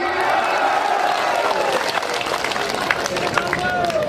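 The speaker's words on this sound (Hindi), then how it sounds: "ठोको ताली।" A crowd at a Congress political rally in Kishanganj claps and cheers loudly and continuously, with a voice speaking over the noise.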